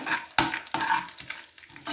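Grated coconut and curry leaves roasting in a hot pan with a light sizzle, stirred and scraped, several sharp scrapes of a spoon against metal, close up.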